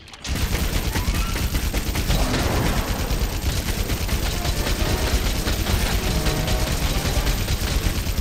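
Special Wyvern ammo fired in Monster Hunter World rolls out as a dense, sustained barrage of gunfire-like blasts over a long loading animation, loud and continuous with constant rumbling low end.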